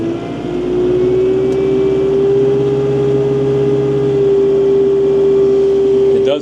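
Kubota tractor engine revving up in low range while regrading land, a loud, steady near drone that climbs and then holds at high RPM for several seconds.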